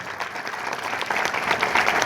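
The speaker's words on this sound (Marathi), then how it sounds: "एकदा जोरदार टाळी झाली पाहिजे आपल्या तुलसी शैक्षणिक समूहासाठी" Students applaud loudly for the Tulsi educational group at a lecture on Chhatrapati Shivaji Maharaj in Beed, with dense, steady clapping that swells slightly toward the end.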